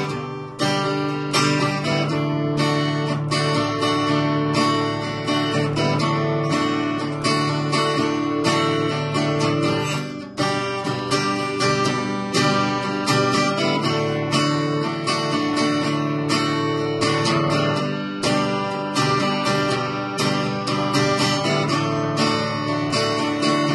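Steady acoustic guitar strumming plays the last chorus of a song, a dense, continuous chordal wash that holds an even level throughout with no voices over it.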